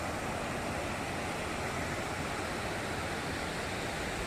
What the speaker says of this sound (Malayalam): കാപ്പിമല വെള്ളച്ചാട്ടം എന്ന് പറയുന്നത് ഇതാണ്.